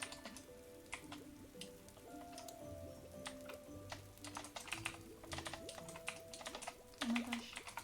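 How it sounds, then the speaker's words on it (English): Close, crisp typing on a computer keyboard in an ASMR setting, with quick irregular clicks and taps that carry on steadily and build into a busier burst near the end, and no voice. "I can't see what I'm typing."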